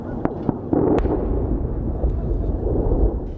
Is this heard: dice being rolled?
no